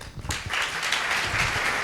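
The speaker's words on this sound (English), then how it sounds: "with a round of applause, please welcome your host for the event, Mr. Ronak Tijoriwala." An audience at a conference inaugural ceremony breaks into applause to welcome the host, a dense, fairly soft wash of clapping that swells after a brief lull and carries on evenly.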